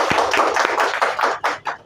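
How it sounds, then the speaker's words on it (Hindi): An audience applauds in welcome at a gathering, a dense, steady patter of many hands clapping close by for about two seconds, with no voices over it. "मैं उनका अभिवादन में आप लोग से आग्रह करता हूं कि एक बार ताली हो"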